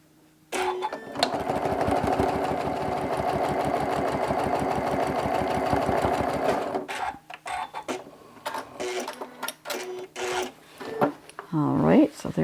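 A sewing machine runs a quarter-inch seam on a crumb-fabric mug rug, a close, fast, even stitching chatter for about six seconds, then stops, leaving scattered handling sounds and fabric rustling.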